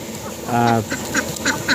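A single loud, raspy duck quack stands out, followed by softer short calls and chatter in the background.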